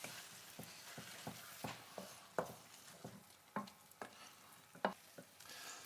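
A spoon stirs mushroom risotto with butter and Parmesan in a pan, producing soft repeated scrapes and wet clicks at an uneven rhythm over a faint sizzle, close but quiet, with no speech.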